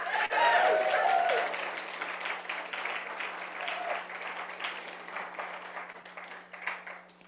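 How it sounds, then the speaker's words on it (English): A church congregation gives a sustained round of applause that starts loud and gradually thins out over several seconds, heard from within the room, with a faint steady hum underneath. "How about another a round of applause?"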